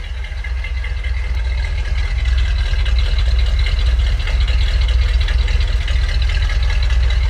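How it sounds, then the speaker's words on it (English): A 1964 Ford Galaxie 500 V8 idles close by with a smooth, steady engine note and a low exhaust burble from the rear, holding constant throughout. "Nice quiet running engine, just like a sewing machine up there. But in the rear, we've got a nice little exhaust burble."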